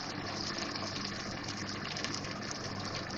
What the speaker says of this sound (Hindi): थोड़ा सा ये पानी डालूंगी इसमें